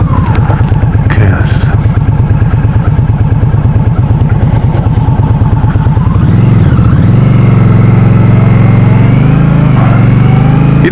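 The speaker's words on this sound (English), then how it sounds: "feedback on that shaking around of the bike, right? That rumbling sound." A 2016 Indian Scout cruiser motorcycle, on the Victory Octane platform, rumbles loudly and close during a ride, with a steady throbbing engine note that shifts pitch as the revs change partway through.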